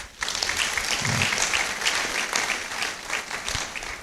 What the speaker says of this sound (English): I think we have to congratulate them by giving them a special round of applause